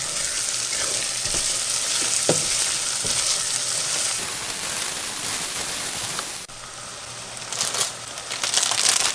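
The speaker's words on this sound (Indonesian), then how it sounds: "Aduk terus." Lemongrass and bay leaves sizzling loudly in a pan while being stirred for a Betawi tofu stew, a dense, steady frying hiss with occasional spoon scrapes and a brief dip before the sizzle swells again.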